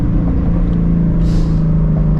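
Ford Shelby GT350 on its stock exhaust, a loud, steady deep rumble at idle that holds evenly throughout with a slight rise in pitch partway through.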